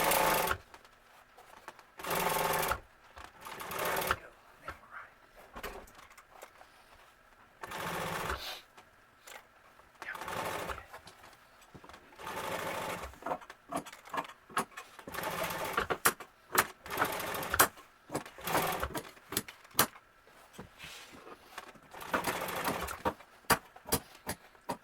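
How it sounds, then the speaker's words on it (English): Sewing machine stitching a seam on a seat cover for a 1951 Ford truck, running in repeated bursts of rapid stitching separated by short pauses, fairly close and alone. "once I get this seam sewed, I will need to check my bobbin before I attempt to top stitch."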